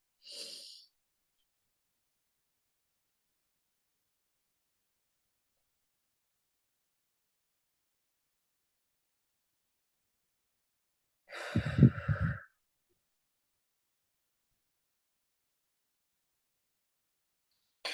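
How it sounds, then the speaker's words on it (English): Guided breathing exercise: a brief soft inhale, a long silent hold, then a loud, breathy exhale sigh lasting about a second, heard close with no talking. "So inhale for 4, hold for 7, release for 8."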